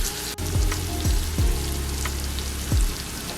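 Vegetables sizzle and fry steadily in a pan for a tuna casserole, a close, continuous crackling hiss with a few soft stirring thumps, no voices.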